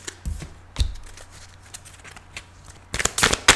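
Tarot cards are shuffled and drawn in short, crisp bursts of flicking and riffling, with two quick snaps early and a denser flurry at the end, close by and without speech.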